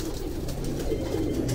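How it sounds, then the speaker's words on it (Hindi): A breeder pigeon coos softly and repeatedly at close range, low murmuring calls over a steady background hiss, with no talk. "बड़ा ही अच्छा कबूतर है"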